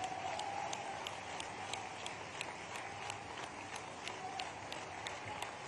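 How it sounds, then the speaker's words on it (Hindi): A large crowd applauds at a public event for a new Ayurvedic college and hospital, a distant, steady wash of clapping with faint rhythmic claps standing out. "आप जोरदार ताली बजाओ"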